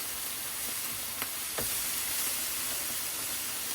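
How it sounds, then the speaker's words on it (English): Beef liver sizzles steadily in a hot pan, a continuous frying hiss broken by a short clack and a brief splatter as the piece is turned over. "I turn my liver over. I usually use thongs. Anyway, I flip my liver over."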